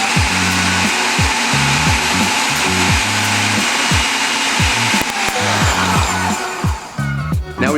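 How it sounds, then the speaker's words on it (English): A food processor blitzing garlic and parsley, its motor surging in repeated short bursts with a chopping, grinding rhythm, loud and close, with no one speaking. "Now we've blitzed it up in our food processor"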